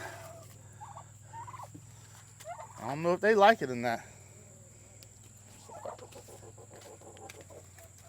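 Turkeys in a garden pen give a loud, close burst of gobbling in the middle of the stretch. Someone talks quietly before and after it, and faint fowl calls sound behind him.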